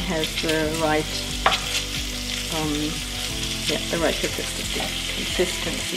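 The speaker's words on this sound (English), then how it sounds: "the bacon, since it started to fry a little late, needs a little more time" Bacon sizzles and crackles steadily in a frying pan for German cheese spaetzle, a close, constant hiss with occasional stirring scrapes, while a voice talks over it throughout.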